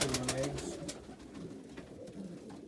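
Soft, low cooing of an Andalusian pigeon cockbird sitting on eggs in a hay-lined loft, heard close at the start and then fading into quieter background sounds.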